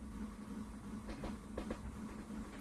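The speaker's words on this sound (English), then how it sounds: "We're on a train that doesn't have any coal." A video game train runs on rails in The Cursed Train, producing a steady low rumble with a few faint rhythmic clicks, continuous and without speech.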